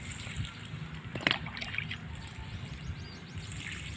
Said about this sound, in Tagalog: isang lata lang kada puno ang pagdilig